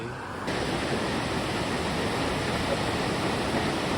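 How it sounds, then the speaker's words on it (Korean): Ocean surf on a beach where people are surfing: a loud, steady wash of breaking waves, with no voices over it. "야, 파도 좋다."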